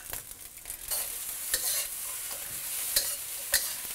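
Fried rice with cashews and pineapple is stir-fried in a hot pan, a steady sizzle broken by brisk scraping strokes of a utensil, several sharper clicks standing out near the end.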